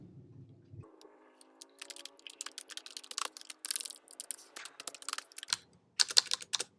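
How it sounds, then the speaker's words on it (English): Keys clatter on a Mac computer keyboard in irregular clusters of quick, close taps, heard alone over a quiet background for several seconds. "So let's type something."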